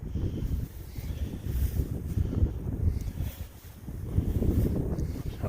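Strong wind blowing outdoors at a site where chinkapin oak is being cut, a steady loud roar buffeting the microphone with gusty swells and no one speaking.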